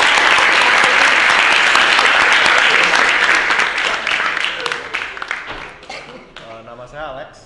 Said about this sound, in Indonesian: Kita berikan tepuk tangan yang meriah dulu untuk